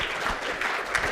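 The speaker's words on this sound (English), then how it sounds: "Let's give her a round of applause." An audience at a conference session applauds a presenter after her talk, giving a brief, steady wash of clapping heard at moderate level.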